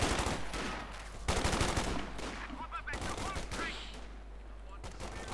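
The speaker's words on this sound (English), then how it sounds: "these Fultz grenadiers with a Browning light machine gun" In a Company of Heroes 2 battle, a Browning light machine gun fired by Fusilier grenadiers rattles in sustained bursts amid other gunfire and battlefield clatter, moderately distant and steady throughout.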